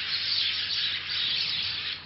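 Bright chirping and tweeting of birds over a constant outdoor hiss, calls overlapping steadily without any speech.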